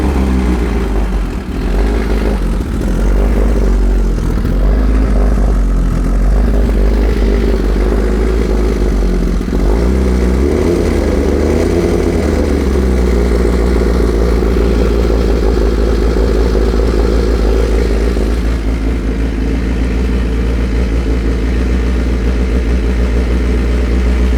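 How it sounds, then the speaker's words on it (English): A Kawasaki ZX-10R motorcycle engine, freshly refilled with oil, idles steadily up close for the whole stretch with a constant, even drone and no talking. "we're going to start the engine."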